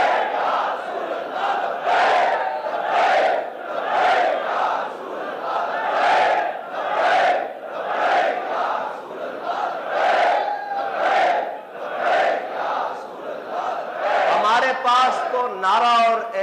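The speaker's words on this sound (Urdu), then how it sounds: "حضور کا ذکر ہو تو ہم نعرہ ہی وہ بلند کرتے ہیں کہ لبیک" A large crowd chants the religious slogan Labbaik in loud, steady rhythmic bursts, roughly one per second, with massed voices rising together and overlapping cries at the end.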